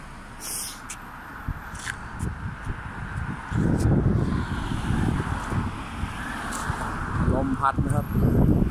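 Wind gusts outdoors, buffeting the microphone with a low, uneven rumble that strengthens midway and stays loud, with light rustling and voices in the background.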